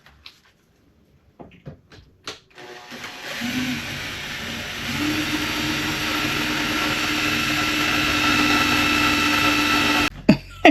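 An electric drill spinning up after a few clicks and knocks, then a steady, loud whirring drone that holds for several seconds before stopping abruptly.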